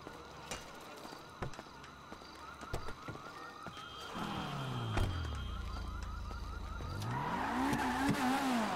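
A car in a GTA roleplay game revs and accelerates, the engine tone climbing and shifting through gears, with a siren-like wail and clicks earlier and a rising whine at the end.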